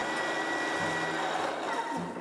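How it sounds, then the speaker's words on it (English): Sugar whirring in a kitchen blender to make icing, a steady high-pitched motor whine and grinding rattle, close and fairly loud, with the pitch shifting slightly near the end. "So I'm going to start with popping some sugar into the blender."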